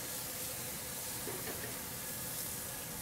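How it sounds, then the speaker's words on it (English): Garlic and peas sautéing in bacon fat in a pan while cooking lobster carbonara, a soft, steady sizzling hiss that stays even and faint throughout. "we're gonna slowly saute our garlic and peas"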